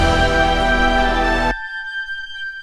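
Shrill, very high piccolo from the Berlin Woodwinds main library plays a sustained melody line, bright and loud for about a second and a half, then cuts off to a faint lingering tail.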